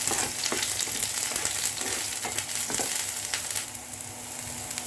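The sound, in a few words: garlic and onion frying in a pan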